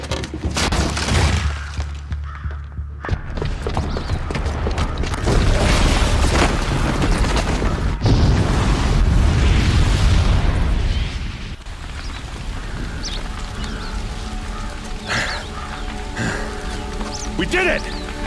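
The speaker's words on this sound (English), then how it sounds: "the booby trap on the bomb downstairs is gonna get set off" Bomb explosion in Horizon Zero Dawn, a loud booming blast with crashing debris that fills several seconds, followed by rumbling game sound and music; speech sits over parts of it.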